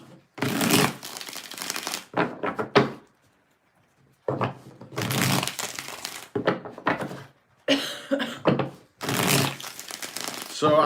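Tarot cards are shuffled in several quick bursts of riffling and flapping, separated by short pauses.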